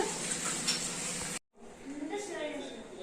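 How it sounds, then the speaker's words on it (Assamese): Dishes being washed clink and clatter against running water in a busy kitchen, the sound cutting out briefly midway before resuming more softly. "এতিয়া বাচন ধোৱাত লাগিছে"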